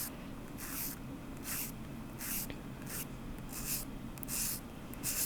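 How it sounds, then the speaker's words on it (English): A sanding stick strokes over a Phoenix fine silver metal clay spinning pendant in short, even, one-directional passes. About eight soft, close, hissing scrapes come in a steady rhythm, with no talking. "I like to come in with my sanding stick and just kind of in one direction push and even out anything that I might need to"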